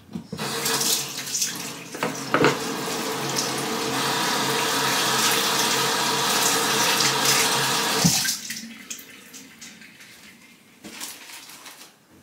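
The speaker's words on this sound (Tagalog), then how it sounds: "maghugas lang ako ng kamay" Tap water running into a kitchen sink during handwashing, a steady close rush for about eight seconds with a few clinks, then the flow stops and quiet handling sounds remain.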